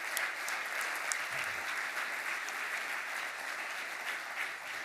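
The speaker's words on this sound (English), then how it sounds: "I suggest a round of applause for people who help you out every day." Steady, dense applause from an audience at an AI workshop, many hands clapping evenly throughout without pause.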